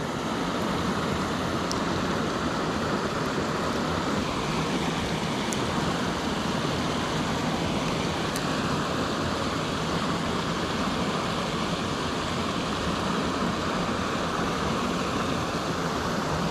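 Water pours steadily over a spillway on Fall Creek, a continuous broadband rush that stays even and unbroken with no voices over it.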